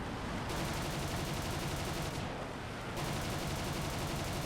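Rapid, continuous gunfire from aircraft guns in War Thunder, firing close in dense sustained bursts with a brief pause near the middle, loud and alone without talk.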